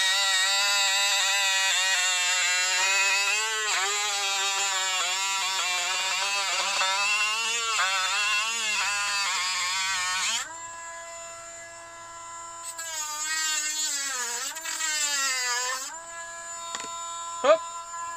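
A power tool cuts through the plastic floor panel of a camper van with a loud, continuous high-pitched whine that shifts in pitch as the cut proceeds, pausing briefly and resuming near the end.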